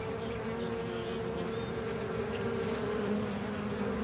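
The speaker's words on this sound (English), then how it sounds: "we're going to European honeybee, zooming about." A European honeybee buzzes close by, a steady faint drone over quiet outdoor background with no talk.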